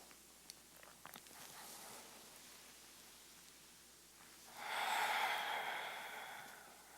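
A single long, breathy exhale swells up during a yoga exercise and slowly fades, close and soft, after a few faint rustles.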